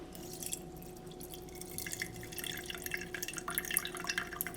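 Melted golden ghee is poured slowly through two stacked sieves, giving a soft, continuous trickling and dripping that grows slightly busier toward the end, quiet and close with no voices.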